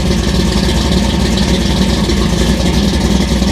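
A 1964 Chevy II gasser engine with a tunnel ram and dual quads idles loudly up close, a steady, even rumble with no talking.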